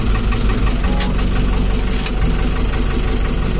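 A car engine idles steadily with a low, rough rumble and a faint knocking, loud and close, with no voices over it.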